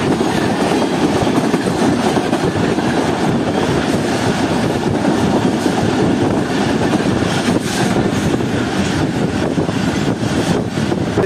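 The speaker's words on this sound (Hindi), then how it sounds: "दोस्तों ये जो रेलवे आप देख रहे हैं जो कि असल में राइट साइड से आ रही है" The Ravi Passenger train runs along a railway line toward Sheikhupura Junction, a loud, steady rumble of wheels and carriages with faint clickety-clack that fills the whole stretch, with no talking.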